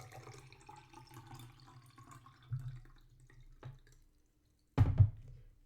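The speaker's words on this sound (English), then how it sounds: "you're going to fill up your glass" Water from a jug is poured into a transparent glass bowl, a light trickling and dripping stream that stops, then a brief louder splash near the end.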